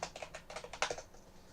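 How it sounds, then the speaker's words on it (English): Rapid, loud keystrokes on a computer keyboard clatter in quick uneven bursts, close and alone with no voice over them. "Excuse my loud typing for a hot second here"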